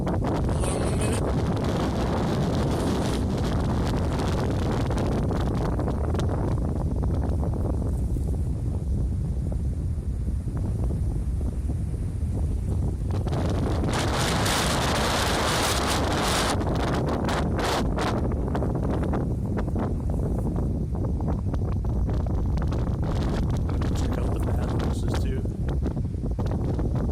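Heavy wind buffeting a cell phone microphone outdoors at a state park, a loud continuous rumbling roar with gusty surges throughout, and brief voices faintly under the noise.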